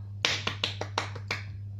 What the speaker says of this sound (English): Sorry if I just deafened you with that clap.